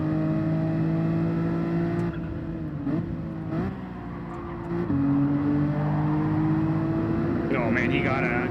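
A Toyota Supra race car in Gran Turismo 7 drones with a steady high engine note, dipping and shifting pitch through gear changes and lift-offs before revving back up, while a voice talks over it.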